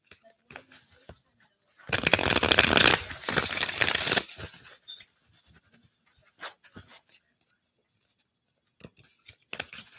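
Tarot cards are shuffled in a single burst of dense, papery riffling that lasts about two seconds, surrounded by quieter handling taps and rustles. No one speaks.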